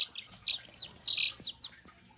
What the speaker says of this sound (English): we're back with the sweet little chicken babies